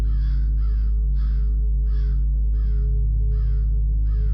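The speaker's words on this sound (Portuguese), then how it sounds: "As aves o acompanharão" Crows cawing outdoors, seven harsh, evenly spaced calls in a steady rhythm, loud and clear over a low constant hum, with no voices.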